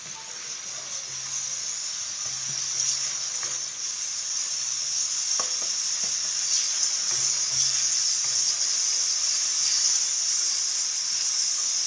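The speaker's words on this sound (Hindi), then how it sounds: "कीमे को थोड़ा भून के कीमे को 1 से 2 मिनट के लिए भूनेंगे।" Chicken mince fries in a hot pan over a raised flame, giving a loud, steady hiss and sizzle with a few faint stirring knocks, close up and without voices.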